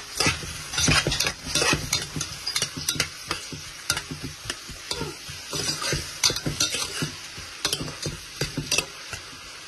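Onions stirred and fried in a pan, a steady sizzle under frequent scraping and clinking of a spoon or spatula against the metal, close and busy throughout with no talking.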